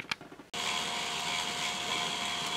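A small K'nex toy motor drives a shaft synchronizer, switching on abruptly after a brief tick and then whirring at a steady, high, buzzy drone, close and alone.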